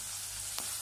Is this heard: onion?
yes